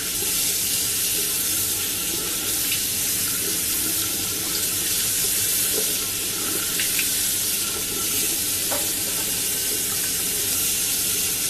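Water running steadily from a tap into a sink while a face mask is rinsed off, a continuous near hiss and splash lasting throughout with small splashes of hands in the stream and no talking.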